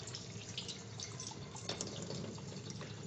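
Water runs steadily from the test cock of a spill-resistant vacuum breaker as it is flushed, a continuous soft hiss and splash heard alone at low level.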